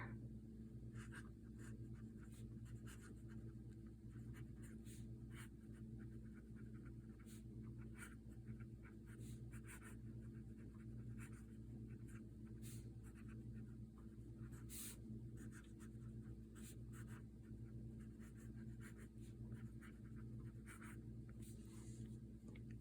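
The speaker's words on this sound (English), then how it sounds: "So we'll do a writing sample here." A fountain pen with an extra-fine nib writes on paper, giving faint, intermittent scratchy strokes over a steady low background hum, with no talking.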